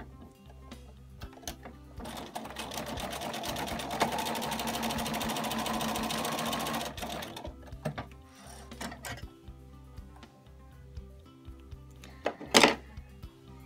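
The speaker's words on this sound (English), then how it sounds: "we're gonna sew it right sides together right here like this" A sewing machine stitches a quarter-inch seam with fabric right sides together for a mini Dresden pincushion. It gives a steady, close mechanical whir for about five seconds, bracketed by a few clicks and thunks.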